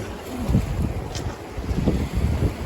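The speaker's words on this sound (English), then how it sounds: "Hit the white water." A boat running into Class 1 whitewater rapids: continuous rushing, splashing water and wind buffeting, with several louder surges of spray and impact, close and fairly loud, with no speech.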